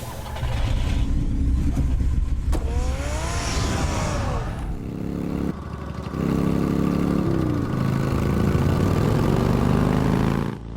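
Car engine idling and revving in a Batman video game, a steady mid-pitched hum with rising and falling revs, mixed with game music and effects throughout.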